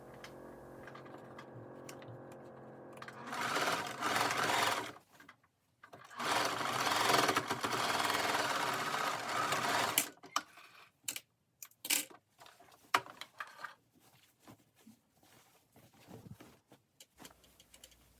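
Sewing machine stitching apron fabric, running in close bursts of rapid mechanical stitching with brief pauses, followed by scattered clicks and handling noises.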